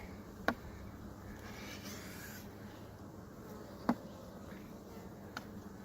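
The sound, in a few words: honeybees buzzing in a hive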